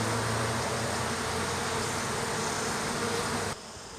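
Honey bees buzz densely around an open beehive, a loud, steady droning hum that holds unbroken and then drops abruptly quieter near the end, with no voices.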